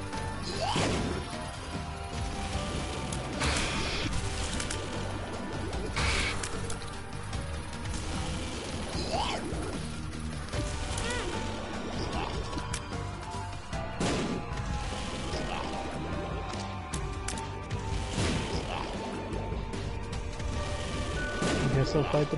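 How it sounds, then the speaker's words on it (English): Bombs go off repeatedly in the video game The Binding of Isaac: Rebirth, a dense run of booming crashes and impacts over game sounds while a player talks throughout. "Bombs. All the bombs."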